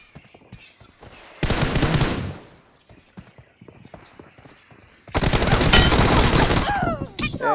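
Gunfire in the video game BGMI: two long, loud bursts of rapid automatic fire separated by a stretch of scattered, quieter shots and clicks.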